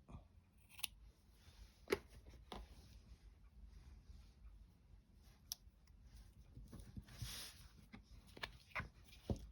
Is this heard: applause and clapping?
no